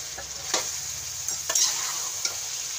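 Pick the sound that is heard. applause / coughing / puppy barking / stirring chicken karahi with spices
stirring chicken karahi with spices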